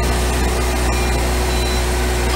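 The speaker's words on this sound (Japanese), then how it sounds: "先にエンジンをかけますけれども、" A new Subaru WRX with a horizontally opposed flat-four engine idles close by, a steady, even drone with a constant low hum and no voices.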